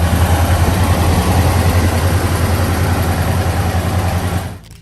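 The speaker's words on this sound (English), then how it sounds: "Pontiac 455 HO." A Pontiac 455 HO big-block V8 runs with a loud, steady, throbbing rumble, close and alone, then cuts off abruptly near the end.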